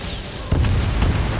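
Aircraft struck by a missile in the Ace Combat 7 flight game, a deep boom bursting in about halfway through and rolling on with a second thump a moment later over steady jet rumble.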